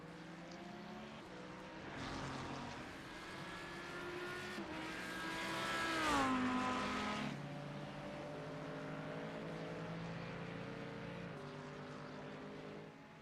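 Several GT3 race cars roar around a track in a sim racing game, engines droning steadily with rising and falling pitch as they pass, one swelling loudly near the middle before settling back into a continuous mix.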